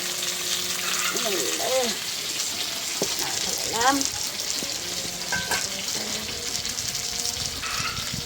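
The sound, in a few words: fish frying in a pan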